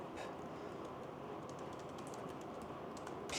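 Fast keystrokes tapping out a search on a keyboard, a steady run of light clicks over a constant low background hum, with no talking.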